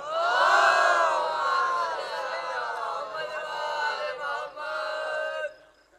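Audience at a religious celebration in Lucknow chanting slogans and salutations in unison, a loud, sustained mass of voices that swells, dips briefly and fades toward the end.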